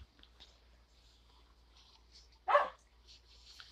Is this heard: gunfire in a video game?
no